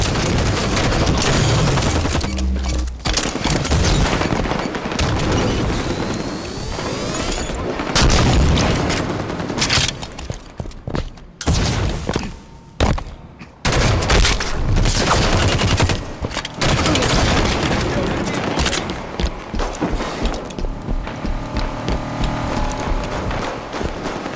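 Sustained video game battle din during a capture-the-flag match, with dense gunfire volleys, machine-gun bursts and heavy explosions booming almost without pause, loud and close, briefly thinning in the middle before the barrage resumes.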